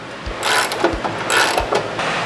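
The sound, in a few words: 9/16 wrench and socket loosening bolts on fertilizer spreader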